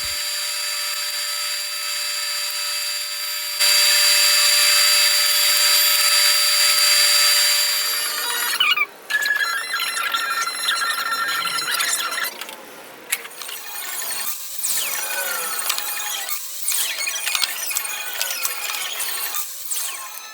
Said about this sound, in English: Now we're at the planer, just running all those boards through that just went through the jointer